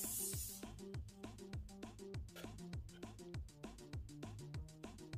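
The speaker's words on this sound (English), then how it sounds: "I'm going in with a setting spray. This is from NYX, and I'm spraying my entire face." NYX setting spray is misted over a face in one short, bright hiss at the very start, followed by rhythmic background music with a steady beat.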